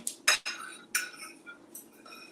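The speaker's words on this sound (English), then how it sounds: "Y'all hear that silverware?" Metal cutlery clinks and rings against dishes during cleanup after a taco meal, sounding as a few sharp, close chinks with fading resonant tails.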